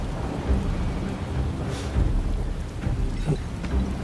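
Heavy rain pours steadily with deep rolls of thunder rumbling through, a storm scene in the video game Final Fantasy VII Rebirth, dense and continuous with no voices.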